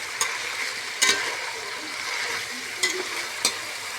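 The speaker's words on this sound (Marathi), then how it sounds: "कोबी सॉरी फुलावर आणि शिमला मिरची भाज्या मस्त परतून घेऊ आपण आता" Cauliflower and capsicum sautéing in a pan for veg pulao: a steady soft sizzle with a few sharp clinks and scrapes of a stirring spoon, close and moderate in level, no voices.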